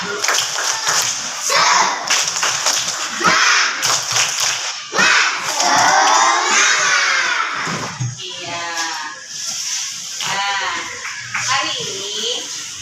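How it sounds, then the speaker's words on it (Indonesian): A classroom of children chanting and clapping a spirit clap in rhythmic bursts, loud and close, with voices mixing into the claps throughout. "Tepuk semangat dulu kita ya. Tepuk semangat."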